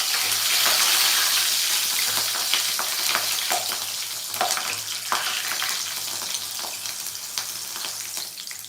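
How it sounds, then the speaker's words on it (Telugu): Curry leaves and green chillies fry in hot oil with a close, steady crackling sizzle, dotted with scattered sharp pops, and no one speaks. "కరివేపాకు పచ్చిమిర్చి కూడా ఫ్రై చేసుకున్నాము"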